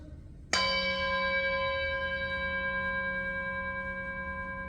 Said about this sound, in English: When the kids hear this bell, or when they hear these chimes right here